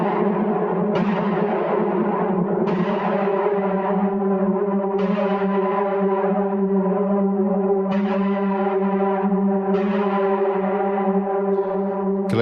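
TGX-85 virtual synth sample library sounds playing held chords with reverb, each new attack blooming and lingering over a steady sustained pad, a series of evenly spaced note entries.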